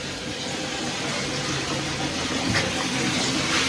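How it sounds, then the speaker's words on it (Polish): Steady rushing water runs continuously, a dense broadband hiss like a shower or tap flowing nearby, with no voices. "Tutaj jest, prysznic, akurat się nalewa woda"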